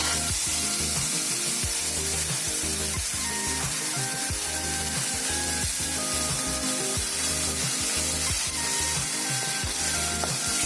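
Tomatoes sizzling in a hot pan for Bengali sweet tomato chutney, a loud, steady frying hiss close by, with intermittent stirring and scraping sounds throughout and no talk.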